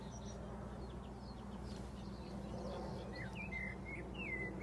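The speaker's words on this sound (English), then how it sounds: "other birds you can hear include the reed warbler, which is the scratchy sound." A reed warbler's scratchy, chattering song carries from reeds amid a steady wash of insect and cricket noise, with other faint bird chirps mixed in and no voices.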